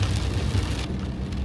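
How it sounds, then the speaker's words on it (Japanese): Heavy rain on a trip through the mountains of Nagano toward Shirahone Onsen makes a dense, steady hiss with soft low rumbling underneath, without any speech. "大雨になってきました。"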